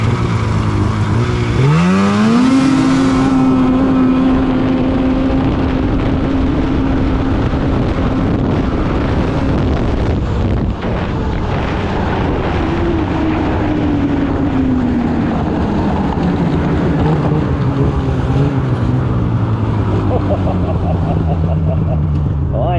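Polaris Indy 600 snowmobile engine revving hard, suspected of a clogged fuel filter, climbing to a loud high whine, holding, then winding down, close and loud with voices over it.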